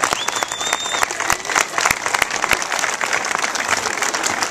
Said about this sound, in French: je voudrais qu'on applaudisse bien fort Loïs Saber